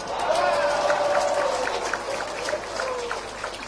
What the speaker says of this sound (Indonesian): Nah, itu baru tepuk tangan